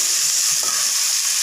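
Potatoes frying in hot oil in a pan, giving a loud, continuous sizzle that fills the whole moment, with no talking over it.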